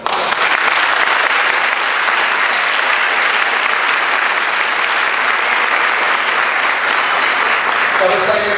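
A church congregation breaks into applause during a preaching service, a thick, loud wall of clapping that stays constant and unbroken from start to finish.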